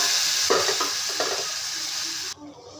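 Tomato drops into a pan already frying with chopped ginger and a dried red chili, giving a loud sizzle with a few stirring scrapes before the sizzle dies down sharply.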